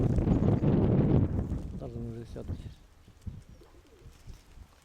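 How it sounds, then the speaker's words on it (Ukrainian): A pigeon gives a few soft, throaty coos close by after a gust of wind, with a person talking faintly. "Це молоденька голубочка, я її ціную."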